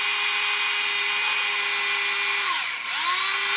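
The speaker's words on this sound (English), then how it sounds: "I'm going to drilling the holes to bring the fiber optics up" A power drill bores holes for fiber optics in a model starship bridge build, with a loud, close, steady motor whine that dips briefly near the end as the bit slows and then spins back up.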